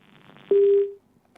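A single steady electronic phone tone sounds for about half a second after a failed call connection, cutting off cleanly over faint background hiss, with a tiny blip afterward.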